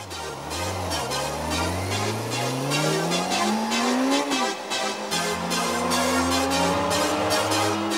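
A 600cc motorcycle accelerates hard, its engine note climbing steeply through the gears with rising pitch, brief drops at each shift, loud and close throughout with no talk.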